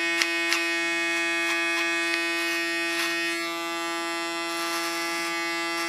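An electric hair clipper buzzes steadily and close at hand as it cuts hair during a haircut, its hum holding even throughout with a few small clicks and shifts in tone as it moves through the hair, with no talking.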